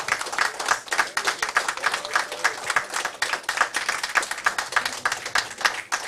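An audience at a book launch applauds warmly, steady clapping from a crowd that stays fairly even and close throughout.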